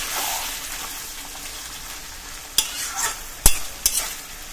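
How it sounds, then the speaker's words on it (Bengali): Desi chicken red curry being stirred in a covered pan: a soft sizzle and simmer underneath, then a few sharp clinks and scrapes as the lid is lifted and the spoon works the meat. "এভাবে ঢাকনা তুলে বারবার একটু নাড়াচাড়া করে দিতে হবে, না হলে নিচ থেকে লেগে যাবে"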